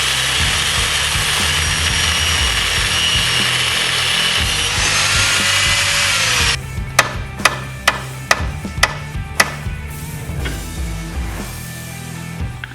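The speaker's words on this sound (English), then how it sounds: "break out the angle grinder, cut it across there" An angle grinder cuts through a BMW E36 lower suspension arm, a loud steady high whine for several seconds, then stops, followed by a series of sharp metallic clanks and knocks.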